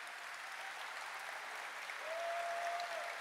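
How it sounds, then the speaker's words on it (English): Distant, fairly quiet applause from a crowd at the Gamescom gaming convention, a steady patter of clapping that swells slightly toward the end. "Applause"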